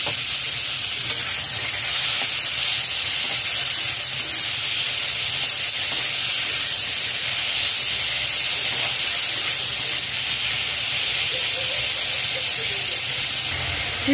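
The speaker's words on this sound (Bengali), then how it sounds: "লো টু মিডিয়াম ফ্লেমে 15 মিনিট নাড়াচাড়া করে কষিয়ে নিয়েছি" Boneless chicken pieces and onions sizzle steadily in oil in a pan over low to medium flame, with continuous frying hiss and occasional stirring scrapes running evenly throughout.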